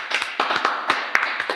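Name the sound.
applause for a guest on a talk show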